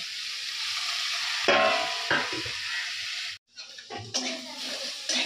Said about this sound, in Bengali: তো ভাজা ভাজা হয়ে গেছে চিংড়ি মাছ